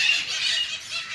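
A parrot in the Alipore zoo aviary in Kolkata gives a continuous shrill, squealing call lasting about a second, loud and close with no talking.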